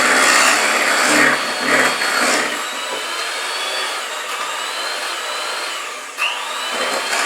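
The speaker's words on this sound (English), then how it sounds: "Make sure you don't get your fingers in the whizzy machine, because it does bite." Electric mixer whisking Victoria sponge cake batter, a loud continuous close whirring whine with a brief change in pitch near the end, heard alone without talk.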